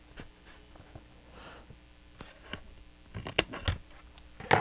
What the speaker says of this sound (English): I'm just going to cut 2 strips of this